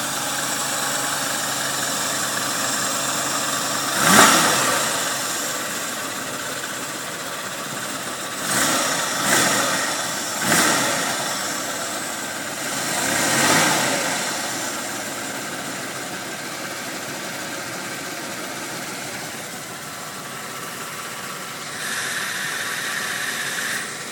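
A 1981 Buick Electra 225 engine runs just after a cold start, a steady idle with a faint belt squeal and several brief revs rising out of the drone, close and alone with no talk.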